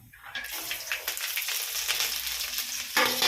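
Mustard seeds, lentils and garlic hit hot oil in a pan for a Tamil kara kuzhambu, starting a loud, close sizzle that swells quickly and crackles on steadily, with a brief surge near the end.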